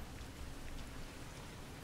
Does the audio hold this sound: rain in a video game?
yes